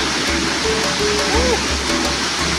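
The Eastern Cataract waterfall at Victoria Falls (Mosi-oa-Tunya) roars as a loud, steady broadband rush close by, with a voice speaking briefly over the constant falling water.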